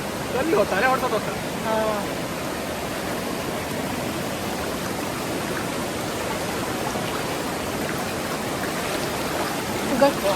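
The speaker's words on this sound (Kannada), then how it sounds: "ಸಣ್ಣದಾಗಿ ಫಾಲ್ಸ್ ಇರೋದು ಅಲ್ಲಿ ಮುಂದ್ಗಡೆ" A small waterfall rushes steadily in an outdoor picnic spot, a constant broad hiss of flowing water at moderate volume, with faint voices briefly heard near the start and end.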